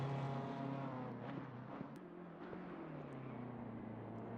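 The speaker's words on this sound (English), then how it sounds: "some people just pointing out the engine sound is a bit too quiet" A race car engine in the Assetto Corsa Competizione game at Monza plays quietly as a continuous droning whine with layered harmonic tones, slowly shifting in pitch, steady and fairly distant in the background.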